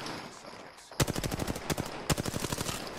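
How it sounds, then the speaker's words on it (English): Rapid automatic gunfire in a video game, two loud close bursts of evenly spaced shots after a quieter start, with a brief pause between them. "I don't even know what I'm shooting at"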